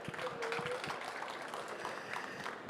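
An audience at a startup competition finals at CES 2023 applauds with steady, moderately distant clapping that fills the whole moment without a break.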